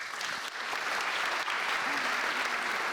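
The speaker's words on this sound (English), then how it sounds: "A warm applause for my fantastic panel." Audience applause for a marketing conference panel, dense steady clapping from a sizable crowd at moderate distance, sustained evenly through the whole stretch.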